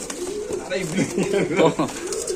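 Soft, throaty cooing of a racing pigeon repeats close by in a wavering rhythm, blending with low voices in the background at a pigeon farm.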